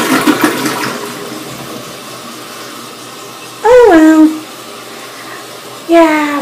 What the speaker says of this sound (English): You just flushed it down the potty!